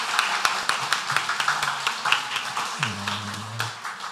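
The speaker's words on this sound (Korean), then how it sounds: "감사하는 마음으로 열렬한 응원의 박수 하겠습니다." A church congregation claps together at a year-end Sunday service, a dense patter of handclaps running throughout with a low voice or tone sustained underneath.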